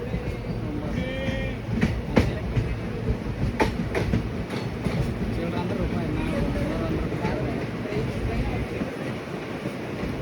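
Mysuru–Tirupati Express passenger train moving out of a station, a steady rumble with faint rail clicks and brief sharp squeals, heard from close on board with voices talking.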